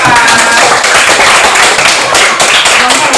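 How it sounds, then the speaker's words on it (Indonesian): Students in a classroom clap for a group of classmates, loud and close, a brisk burst of many hands with a few sharper individual claps standing out. "tepuk tangan dulu buat kelompok 5"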